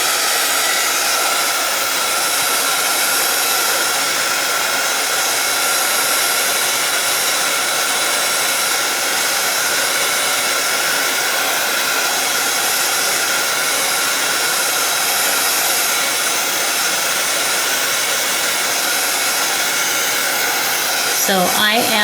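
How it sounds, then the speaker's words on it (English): A heat tool blows hot air to dry a craft project of mat board, a loud, steady broadband whoosh that runs unbroken throughout with no talking. "if the sound of the heat tool is offensive"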